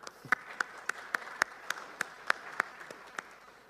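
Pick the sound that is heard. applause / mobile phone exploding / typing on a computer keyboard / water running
applause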